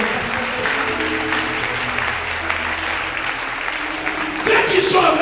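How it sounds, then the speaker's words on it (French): A church congregation applauds loudly and steadily, a dense wash of clapping that swells toward the end as a preacher's voice carries over it. "Acclamons très fort Jésus."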